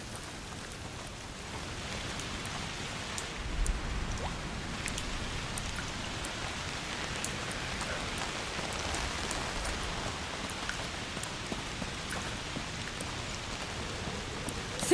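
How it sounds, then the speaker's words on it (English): Steady rain in the video game A Plague Tale: Requiem, a dense continuous patter of drops on surfaces with scattered sharper droplet ticks, constant and enveloping, no voices. "Foul rain."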